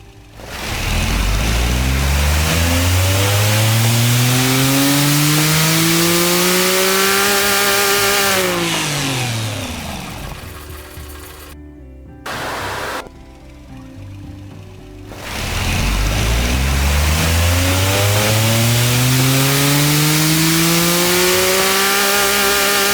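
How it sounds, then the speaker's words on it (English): A small simulated car engine on a dyno in the Automation tycoon game revs up through a long, rising buzzy wail, drops away to a near-idle with brief blips, then climbs again, loud and synthetic with no talk. "This engine actually sounds pretty damn good."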